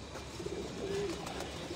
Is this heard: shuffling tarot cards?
no